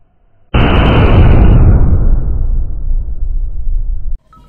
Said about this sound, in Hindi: ये रहा मरकरी का 55 रुपए का बुलेट बम